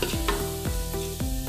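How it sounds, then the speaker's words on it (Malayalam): Cumin seeds sautéing in ghee, a dense steady sizzle with several quick scrapes of stirring, close and loud over a faint hum. "ഇനി നമ്മൾ അതിലേക്ക് 1 teaspoon നല്ല ജീരകം ചേർക്കുകയാണ്. ചെറുതായി ഒന്ന് വഴറ്റുക."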